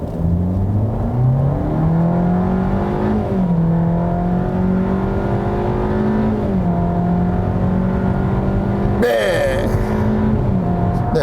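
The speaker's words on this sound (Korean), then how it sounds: "드라이브 모드를 스포츠 모드에 두고요, 급가속을 한번 해보겠습니다" A Kia K3 1.6 with IVT transmission accelerating hard in sport mode, engine drone rising smoothly in pitch with stepped shifts, loud from inside the cabin, ending in a brief burst of noise.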